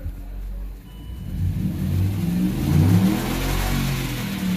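A 2006 Land Rover LR3 engine revs up from idle to a steady higher pitch, its hum rising and holding close by with no talking.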